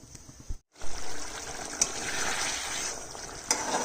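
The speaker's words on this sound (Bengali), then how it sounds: "আমি জল দিয়ে পাতলা করে রান্না করব মাছটা কিন্তু অনেকটা নরম হয়ে গেছে আমি একটু পাতলাই করব জল দিয়ে দিলাম" Water is poured into a simmering katla fish curry, a soft sloshing, trickling flow with a brief break early on and a couple of light clinks, fairly quiet and steady throughout.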